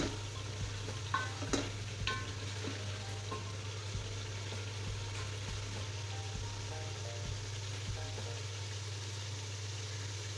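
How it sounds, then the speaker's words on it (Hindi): Spices, red chili and ginger-garlic paste are stir-fried in a pan for aloo tahari. A continuous quiet sizzle comes with occasional scraping stirs over a low steady hum. "लाल मिर्च ऐड करने के बाद अब इसकी भुनाई करनी है, अच्छे तरह से भुनाई करनी।"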